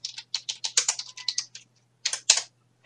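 Computer keyboard being typed on, quick close clacking keystrokes in a run, a short pause, then a few more taps.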